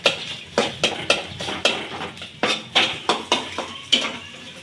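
Chopped onion and chili frying in hot oil in a pan for spicy noodles, stirred with a utensil that strikes and scrapes the pan in a steady run of about a dozen sharp, close strokes.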